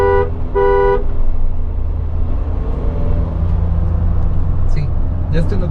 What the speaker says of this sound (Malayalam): ജസ്റ്റ് ഒന്ന് ക്രൂസ് ചെയ്യപ്പോൾ ശബ്ദം കേട്ടില്ലേ, അതാണ് പുതിയ താർ.